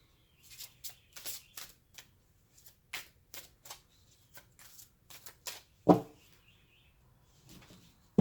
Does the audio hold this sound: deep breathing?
no